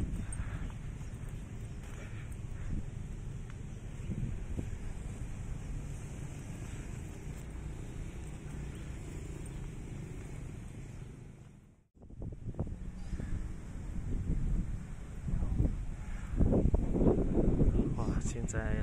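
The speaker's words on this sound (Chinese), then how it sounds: "现在很大风的凉。" Strong wind buffets the microphone outdoors at a riverside park near India Street in Kuching, a steady low roar with a brief dropout midway, then gusting again while people talk faintly underneath.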